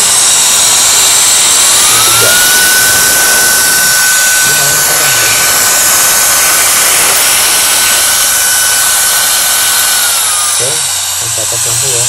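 A small mini jet fan switched on at its lowest speed setting gives a loud, steady whooshing roar with a rising whine that holds level for about nine seconds, then winds down, with a few brief voices near the end.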